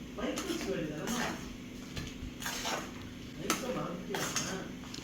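A spoon stirs and scrapes a masala sundal mixture in a pot with repeated clinks and scrapes, while a person talks over it.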